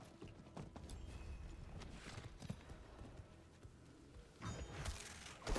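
Hooves clip-clop in the Diablo 4 video game as a horse moves along, a soft steady rhythm over a dense game ambience with a brief louder swell near the end.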